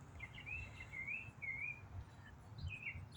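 A small songbird sings a varied, warbling phrase of rising and falling whistles, fairly distant and clear against quiet background hiss.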